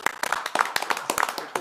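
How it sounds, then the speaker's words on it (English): Scattered clapping from a small group at a city council meeting, a handful of distinct, fairly close hand claps in an uneven rhythm, short and without cheering. "Let's give him applause."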